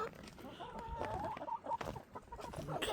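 Chickens of a mixed flock cluck and chatter close by in a farmyard at feeding time, with short repeated calls over a steady background of other birds.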